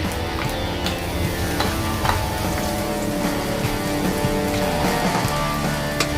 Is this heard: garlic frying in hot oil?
yes